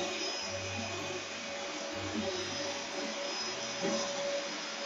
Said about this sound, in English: Yep, vacuum in the background.